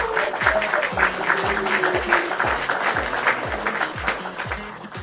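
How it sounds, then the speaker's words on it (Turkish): Steady crowd applause with dense clapping throughout, fairly loud, alongside a rhythmic low thumping beat. "ve yapımcıları Kadir Öztürk ve Bircan Öztürk alkışlarınızla sizlerle"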